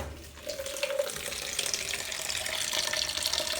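Water pours steadily from a cup, making a soft, continuous splashing trickle with a faint ringing tone near the start. There is no speech.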